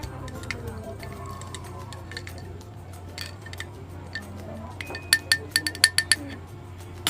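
A spoon stirs milk tea in a glass, a faint background hum giving way to a burst of bright rhythmic clinks against the glass, close and distinct, with no talk over them.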